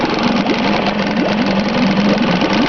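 A Yamaha (Mariner) 4hp outboard motor, freshly pull-started after two years of sitting, runs steadily close by with a loud, even putter and a light, rhythmic lope throughout.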